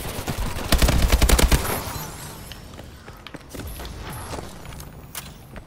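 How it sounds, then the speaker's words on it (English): Rapid bursts of gunfire and explosive shots from a futuristic shooter game (Call of Duty: Advanced Warfare, AK12 in use), a loud dense volley early on, then scattered quieter shots and movement. "Shoot a grenade up there."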